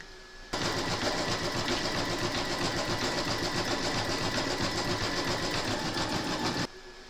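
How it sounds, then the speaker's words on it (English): An embroidery machine stitches the border round of a no-sew burp cloth in a steady, dense mechanical whir that starts abruptly, runs unbroken for several seconds, then stops cleanly. "Load your thread colour for the border into your machine, and then stitch round number 3"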